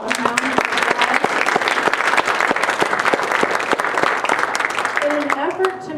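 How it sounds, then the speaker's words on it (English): Dense audience applause for three speakers at a theology event on migration and mission, steady clapping filling the room for the full stretch, with a brief voice near the end. "So let's just give them all a round of applause."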